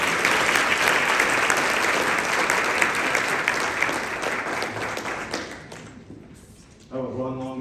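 Applause from an audience welcoming a speaker to the stage, a loud sustained wash of clapping that thins and fades toward the end before a voice begins to speak.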